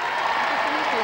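Television studio audience at the 1987 Royal Knockout tournament claps for a Royal Highness, a brief wash of applause under a voice speaking over it.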